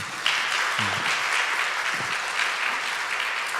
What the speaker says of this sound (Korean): 귀한 나눔을 해주신 모든 분들께 다시 한번 큰 박수 부탁드립니다